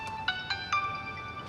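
A mobile phone rings faintly in a drama scene, with a short repeating electronic melody of thin tonal beeps over quiet room tone. No one speaks.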